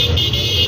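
Car driving on a road with a steady engine and road drone from inside the cabin, loud and close, with no clear horn standing out.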